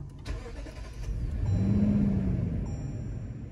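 A 2022 Lexus GX 460 engine cranks and starts, settling into a steady low idle hum that fills the rest of the moment, heard from nearby with no talking.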